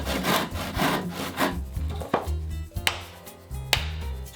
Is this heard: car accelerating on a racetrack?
no